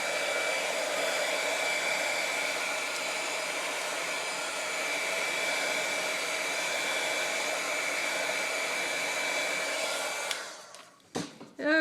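Steady loud roar of a hair dryer blowing on latex Lindy dabber caps, a constant whooshing drone that runs unbroken for about ten seconds before cutting off with a few handling clunks.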